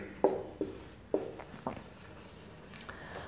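Chalk or marker taps and strokes on a board during a biology lecture, a few sharp knocks in the first two seconds followed by fainter scratching, close and with no talk.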